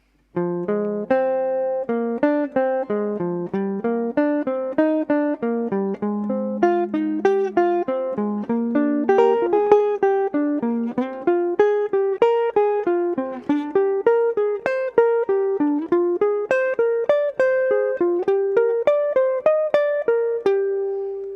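A clean jazz guitar plays a steady sequence of plucked second-inversion triad shapes moving up and down the neck, each chord ringing briefly before the next, unaccompanied.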